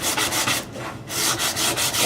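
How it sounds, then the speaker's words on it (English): Close, loud scratchy strokes of coarse sandpaper work along a wooden snow snake, with a brief pause partway through before the rhythmic rubbing picks up again; no talking. "call it coarse sanding."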